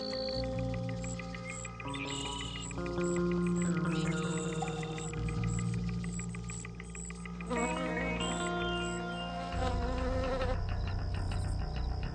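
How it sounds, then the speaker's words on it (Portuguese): Insects buzz around the foliage of purple loosestrife, a garden plant turned weed. Several close, droning hums overlap and shift in pitch throughout, without talk. "sua folhagem está quase sempre fervilhando de tipos diferentes de insetos"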